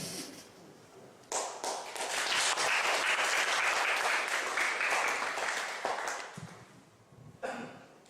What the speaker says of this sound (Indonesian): tepuk tangan yang meriah untuk Samanera Akbar